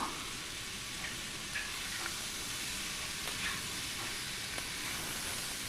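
Prawns sizzle and fry in a spiced masala in a pan, a steady soft crackling hiss with faint stirring clicks scattered throughout and no voices.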